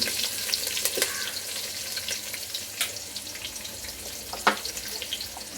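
Cumin, curry leaves, garlic and coconut frying in a pan, a continuous close sizzle broken by crackling pops and occasional stirring scrapes, with no talking.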